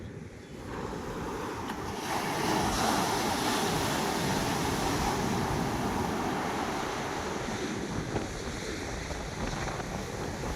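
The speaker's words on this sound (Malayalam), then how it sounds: "നല്ല കാറ്റടിക്കുന്നുണ്ട്" Strong wind roars across a beach, a dense, steady rush buffeting close to the microphone for about ten seconds, with surf washing underneath and no voices.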